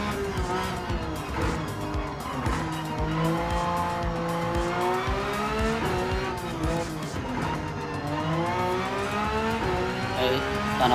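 A race car in Gran Turismo 7 slides around the Nürburgring with sustained tire squeal over a revving engine, loud and continuous throughout.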